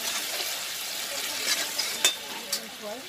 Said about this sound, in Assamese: এতিয়া আমি এইটো একদম ল' স্কিমত আপোনাৰ 5 মিনিটছ মান এইটো আমি ফ্ৰাই কৰিম